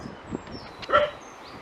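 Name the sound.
dogs barking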